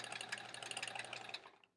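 A home sewing machine runs a wide zigzag stitch for raw edge appliqué, a quiet rapid mechanical chatter of needle strokes that winds down and stops.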